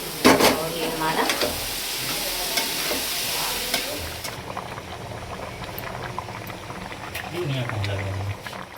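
Chickpeas stirred in a hot pan of roasted spice masala, a loud bubbling, sizzling fry with scraping stirs throughout, close by and alone.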